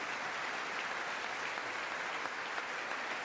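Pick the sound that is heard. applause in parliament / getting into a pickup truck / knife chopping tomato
applause in parliament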